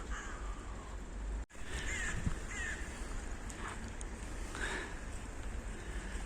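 Crows cawing outside a clinic on an early morning, several harsh caws from moderate distance over a steady outdoor wind-like hiss.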